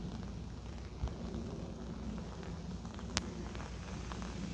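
Steady rain falls at Cape Collinson in Hong Kong, a soft continuous patter with a couple of brief sharp knocks, faint and low, with no talk.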